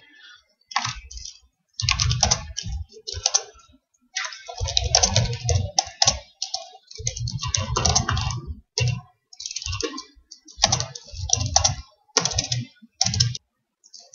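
Bursts of rapid typing on a computer keyboard, close and clear, with short pauses between runs of clicking keys.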